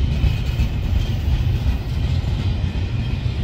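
A freight train rolls past at Winslow with a continuous heavy rumble of wheels and cars, loud and steady, with a faint engine drone underneath and no voices.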